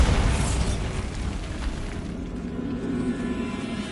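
A Bombarda spell in Hogwarts Legacy goes off with a loud, booming blast that rumbles and then thins into a low, fading roar inside a crumbling catacomb.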